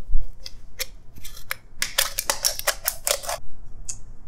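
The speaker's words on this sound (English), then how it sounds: "The next thing that we're gonna do is we're just gonna cut this can" Scissors snip and crunch through a tin can to halve it, giving a series of sharp metallic clips. They are irregular at first, then come in a dense, fast run near the middle. The cutting is close and loud, with no talk.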